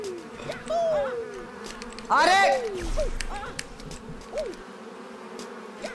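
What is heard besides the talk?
mosquitoes buzzing in the video game Pogostuck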